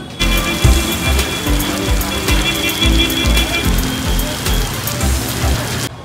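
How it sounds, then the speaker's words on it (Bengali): Heavy rain pours down steadily at Howrah railway station, a dense hiss of drops striking surfaces with some nearer splashes. "এখানে যে বৃষ্টি হইতেছে"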